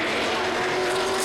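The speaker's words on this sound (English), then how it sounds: "While car 35 with Paul Dumbrell aboard tries for an early pit stop strategy" Touring race cars at Bathurst, a loud continuous engine roar sweeping past in a short burst, with a faint voice underneath.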